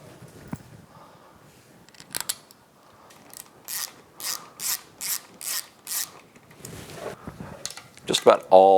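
A ratchet clicks in a quick series of short, crisp bursts while tightening 6mm bolts on a Yamaha F225 outboard powerhead during a bottom end rebuild, with quieter handling noises before and a voice near the end.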